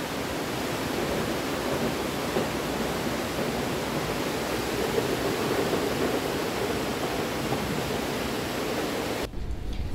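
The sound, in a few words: rushing water of the Teesta river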